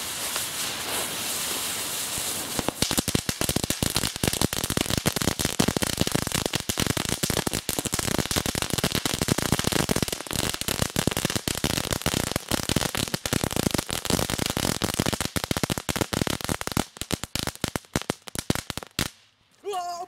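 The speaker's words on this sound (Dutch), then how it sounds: "We gaan nu vuurwerk afsteken." Dense, rapid crackling of fireworks goes off continuously for about twenty seconds, loud and close, popping and sizzling before stopping abruptly.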